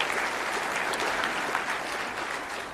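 A crowd claps steadily at a 2024 football award ceremony, honoring a senior four-time All-American; dense, even applause fills the whole stretch at moderate volume, tapering slightly at the end.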